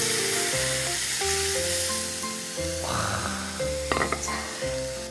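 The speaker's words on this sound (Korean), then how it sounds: "여기 지금 미리 준비해 놓은 우유를 좀 넣어줄게요" Milk goes into a hot pan of sizzling chorizo over high heat, bringing a bright hissing crackle over the frying, while someone talks and background music plays underneath.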